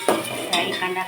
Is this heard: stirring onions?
yes